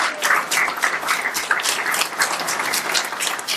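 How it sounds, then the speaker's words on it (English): An audience at an awards ceremony applauds, a dense steady wash of many hands clapping for a few seconds without speech. "I want you to give a round of applause for Rabia."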